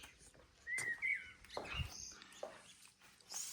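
Small birds chirping in brief, scattered bursts of high tweets with gaps between them, faint and close, with no voices.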